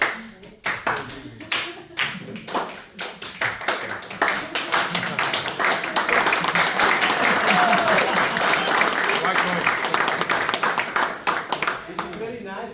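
Hands clapping in a lecture hall during an acoustics lecture, sharp separate claps at first that build into steady dense applause from many people, fairly close and loud, with a voice talking over it.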